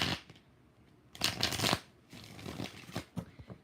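Tarot cards being shuffled by hand during a live reading, crisp riffling bursts in two or three quick clusters, close and fairly soft, with no talking.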